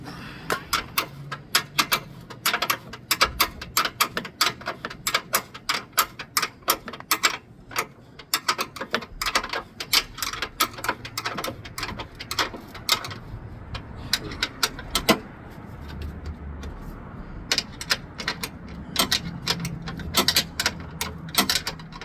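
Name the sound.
torque wrench tightening bolts on 2012 Nissan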